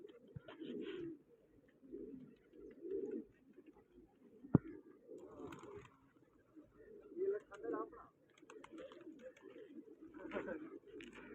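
Pigeons coo in soft, repeated low calls through an outdoor scene where pigeon keepers are flying their birds in hot weather, with people talking intermittently over the cooing.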